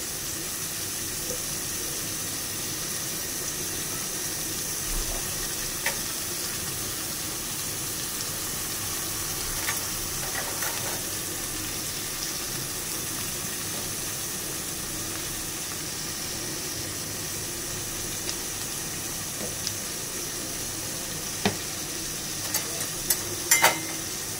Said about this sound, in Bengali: মূলাটা ভাজি করতেছি।